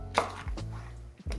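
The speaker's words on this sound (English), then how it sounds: "I'm actually just going to finely slice the onion to add an extra depth to the slaw" An onion sliced finely with a knife on a chopping board, a few firm, close knocks of the blade hitting the wood at uneven intervals over a low background hum.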